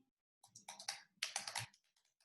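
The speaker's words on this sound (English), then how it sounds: "I'm going to type in my email" Crisp computer keyboard keystrokes entering an email address, two quick clusters of close, clicky taps separated by a short pause, with faint isolated taps trailing off.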